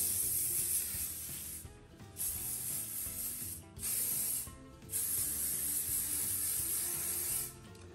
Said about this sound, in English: I'm gonna spray it down with my little bit of shaper